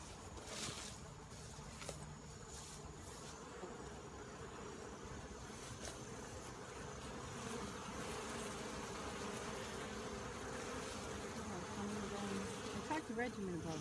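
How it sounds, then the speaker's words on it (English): Honeybees buzz steadily around a New Hampshire beehive after rain, a dense continuous drone of many insects close by with a faint tonal hum, lasting throughout without talk. "Let me see the bees."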